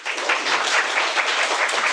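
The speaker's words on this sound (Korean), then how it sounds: "여러분 박수 부탁드립니다" A lecture-hall class audience applauds, dense steady clapping that fills the short moment alone without talk.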